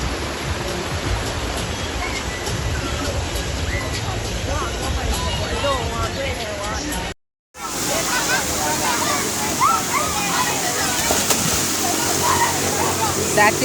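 Steady broadband rush of a calm river flowing in Jamaica, heard from the riverbank, continuous and even, with a brief dropout midway before the flow resumes at the same level.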